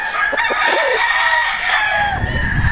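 A gamefowl rooster on a Missouri breeding game farm crows loudly and close by, one sustained, strained crow filling the moment with faint farm background.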